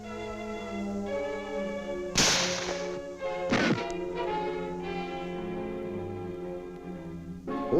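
An M1 rifle is fired in a penetration test against partitions, with two sharp, loud reports about a second and a half apart ringing out over a steady orchestral music bed, and no talk.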